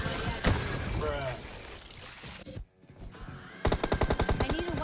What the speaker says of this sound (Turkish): Şimdi oyundaki en güçlü silah oynayacağım.